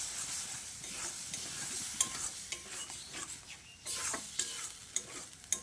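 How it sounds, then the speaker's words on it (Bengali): Boiled moong dal being stirred in a pan, a steady soft sizzle with scraping spoon strokes and a few sharper clinks near the end, no talk. "ডালটা দিয়ে সব কিছুকে একসঙ্গে ভালো করে নেড়েচেড়ে মিশিয়ে নিচ্ছি।"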